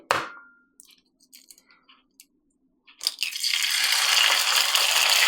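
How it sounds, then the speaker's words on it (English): A sharp crack opens the clip as an egg breaks, followed by a few small taps, then a loud steady sizzle as it lands in a hot Green Pan Spectra hybrid pan. "Then crack the egg."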